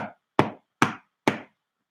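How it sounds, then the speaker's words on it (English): A soldier pounds on a door: three heavy, evenly spaced knocks at close range, each a sharp loud thud with a short decay, following a fainter earlier blow. "A soldier crossed ahead, pounding on the door,"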